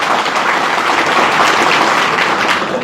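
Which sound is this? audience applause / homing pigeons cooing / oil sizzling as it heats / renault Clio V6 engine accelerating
audience applause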